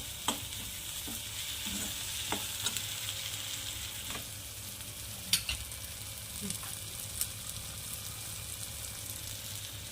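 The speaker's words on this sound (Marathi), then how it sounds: "छान वाटणाला आपला पकू द्यायचं थोडं छान असं मिक्स करून" Ground masala paste cooking in a pan over medium heat for a ridge gourd curry, giving a steady soft sizzle with occasional stirring scrapes and taps.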